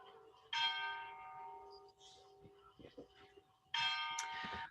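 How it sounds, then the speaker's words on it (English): Church bells in a famous location ring out in two loud bursts with a long resonant hum lingering between them, outdoors with faint background noise. "we could sit here and listen to the bells ringing all day"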